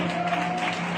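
A congregation claps together at a New Year church service, a brief dense burst of applause with a faint sustained tone running underneath.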